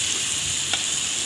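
Masala fried in a pan with salt sizzles steadily and close up, a constant hiss with a faint stirring scrape partway through.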